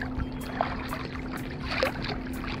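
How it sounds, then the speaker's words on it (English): Kayak paddled hard against a strong current near a buoy on the way to Egmont Key, with rhythmic splashing paddle strokes and water sloshing close by, two stronger strokes standing out over steady broadband water noise and no talking. "I'm paddling pretty hard and I'm barely making headway."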